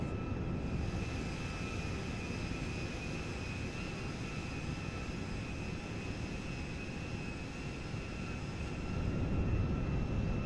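An IL-76M cargo jet in a GTA 5 mod throttling up on the runway, a continuous engine roar with a steady high whine on top that grows slightly louder toward the end.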